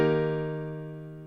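A single sustained piano chord of root and fifth rings out clearly and slowly fades, the two notes blending into an open, hollow sound.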